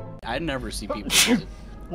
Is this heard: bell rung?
no